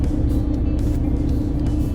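Idling and creeping car engines in a Kyiv traffic jam, a steady low rumble of motors close by that continues without a break and no voices over it.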